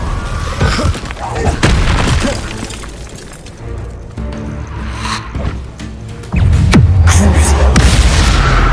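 A Bombarda spell explosion in Hogwarts Legacy lands as a loud, deep boom near the end, following a busy stretch of spell-casting impacts, crackles and combat noise, with a voice talking throughout.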